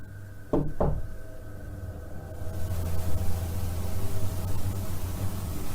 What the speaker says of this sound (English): Can you give us 2 knocks?